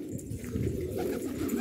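Soft, low cooing from domestic pigeons, including a male Harduni, heard up close as a continuous murmuring burble.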